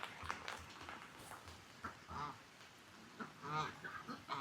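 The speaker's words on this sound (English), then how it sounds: "The geese and the ducks don't mind it, though." Geese and ducks on a muddy winter farm give scattered honks and quacks, several short calls near and far over faint outdoor background, with a brief voice at one point.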